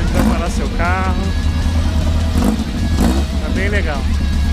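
Volkswagen Beetles arriving and parking at a Beetle meet, a steady mid-pitched engine drone running throughout with people talking over it.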